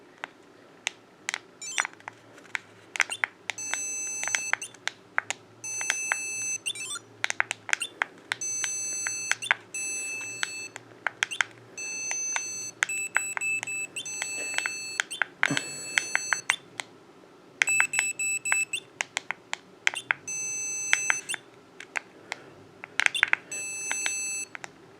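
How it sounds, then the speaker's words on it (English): A MicrocArcade handheld video game's tiny beeper speaker gives off repeated short, thin electronic beeps in irregular bursts over a quiet background. "Ah, that little beep."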